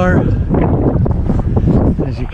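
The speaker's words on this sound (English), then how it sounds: "It's really windy today." Strong wind buffets the microphone in a steady, heavy roar, with a person talking over the rumble.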